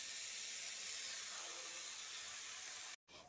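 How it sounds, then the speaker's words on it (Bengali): Spiced masala sautéed in a pan with a splash of water for a banana flower curry gives off a steady, fairly faint hissing sizzle that runs evenly, then cuts off abruptly near the end. "এবার সামান্য একটু জল দিয়ে মশলাটাকে কষিয়ে নিচ্ছি।"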